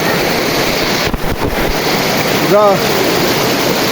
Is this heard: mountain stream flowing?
yes